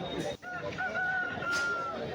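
An Aseel rooster crows once, loud and close, at the busy Erragadda Sunday market, with faint background voices around it.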